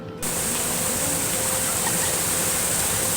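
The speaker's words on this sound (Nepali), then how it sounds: "यहाँनिर झरनाहरू सानो" Small cascades of Chitrey Waterfall tumble over slippery rocks, making a steady, loud broadband rush that starts abruptly and then continues unbroken and close by, with no voices.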